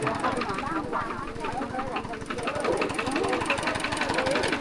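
A farm tractor engine chugs steadily with a rapid low knocking pulse throughout, on the way to a cemetery in Thailand, mixed with a busy, noisy background and possible voices.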